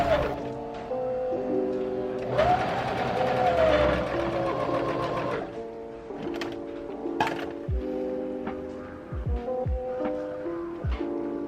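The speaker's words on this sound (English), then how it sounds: "I sewed 2 parallel straight lines on the widest stitch all the way around the circumference of the top of the bottom" A sewing machine runs on its widest straight stitch sewing gathering lines around the top of a skirt, a steady mechanical hum with a tonal whine, followed by quieter intermittent clicks and handling knocks.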